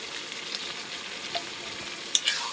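Mutton rubbed with salt, turmeric and spices fries in a pan, a steady bright sizzle with a few soft clicks and scrapes near the end. No one speaks.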